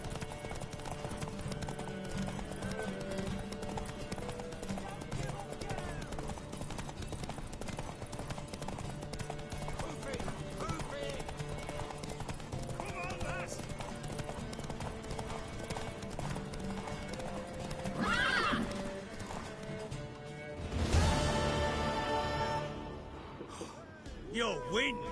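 Horse hooves clip-clop at a steady rhythm throughout a Witcher 3 game scene, with character dialogue running over them and a louder burst of activity near the end.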